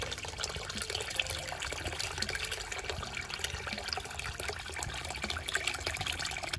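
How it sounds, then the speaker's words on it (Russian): Water pours steadily into a cauldron of pork tails cooked over an outdoor fire, a continuous close splashing and gushing that lasts several seconds without pause. "Воды наливаем так, чтобы хвостики наши все покрылись водой."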